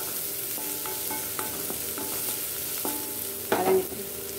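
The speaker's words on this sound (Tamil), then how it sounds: "வெங்காயம் போட்டுக்கோங்க. அதையும் நல்லா கரைச்சி விடுங்க. வெங்காயம் நல்லா வதங்கிட்டுங்க." Onions sautéing in oil in a pan for pea sundal, a steady close sizzle with light stirring clicks of a spoon and a brief louder scrape near the end; no talking.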